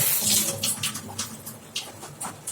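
Tap water runs steadily while garlic cloves are rinsed at a kitchen sink, a close hiss with uneven splashy surges as the cloves are handled under the stream, and nobody speaks.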